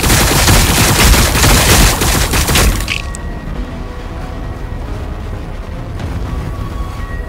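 Dense burst of battlefield gunfire from Warhammer 40,000: Battlesector on PC, loud overlapping shots for about three seconds, then dropping to a quieter rumbling backdrop with scattered faint tones.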